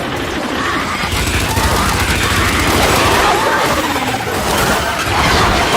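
Sustained heavy gunfire in Gears 5 co-op, a loud unbroken barrage of rapid shots and booms close up across the whole stretch, with no talk audible over it.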